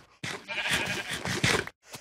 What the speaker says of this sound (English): There's a sheep over here, too.